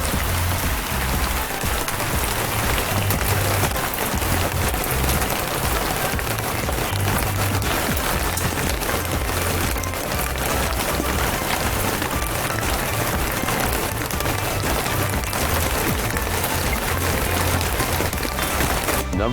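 Steady rain falls without a break, a dense, even wash of drops hitting surfaces, loud and close the whole time.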